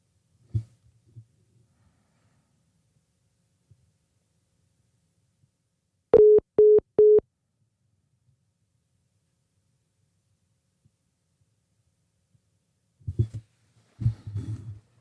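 Telephone tones after a call drops: four short, loud beeps of equal pitch in quick succession, set between long stretches of near silence, with faint low rumbling and handling noise at the start and end.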